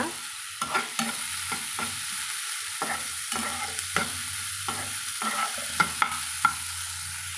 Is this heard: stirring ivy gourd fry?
yes